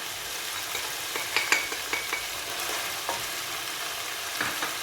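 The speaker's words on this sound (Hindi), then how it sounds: "इसको बहुत अच्छी तरह भूनेंगे" Mutton pieces tossed with spices fry hard over high heat in a karahi, giving a dense, even hiss close by. Light ticking scrapes of a spoon stir through it now and then, with no speech.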